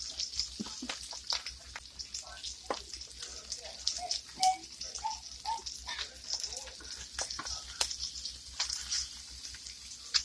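Trout fillet frying skin-side down in a pan produces a quiet, sparse crackle of scattered pops and snaps over a low, steady hum.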